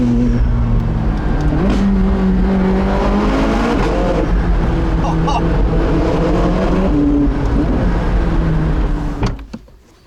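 A McLaren 675LT Spider engine revs hard and climbs through the gears, its pitch sweeping up and dropping at each shift, loud and close for about nine seconds before cutting off abruptly at the end.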